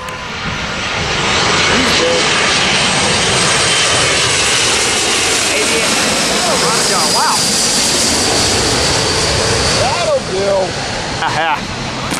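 Avianca jet airliner passing at LAX, a loud broadband engine roar that holds steady across the whole stretch, with brief voices talking over it.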